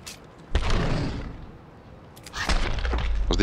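Gunfire from a weapon in the zombie video game Dying Light, two loud, close bursts of sharp, booming shots separated by a brief lull.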